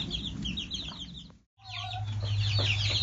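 Two-week-old chicks and 14-week-old chickens on a small farm cluck steadily and murmur close by, with high peeping over low clucks. The sound breaks briefly midway, then resumes just as busy, with no talking.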